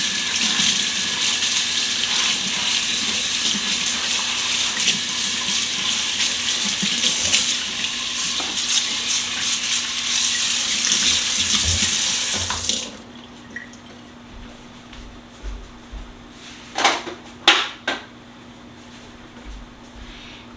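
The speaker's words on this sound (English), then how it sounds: "Rinse the grounds." Tap water runs steadily into a kitchen sink while coffee grounds are rinsed out of a container, a loud continuous gush that cuts off abruptly, followed by a few brief clunks and splashes.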